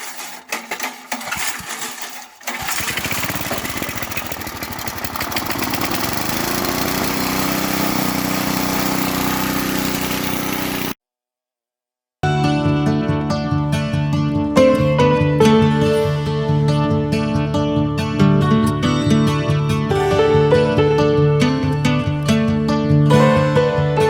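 A garden tiller engine is pull-started with the choke on, then a short silent gap, then steady close running with harmonic drone and small rhythmic variation, loud and without talk.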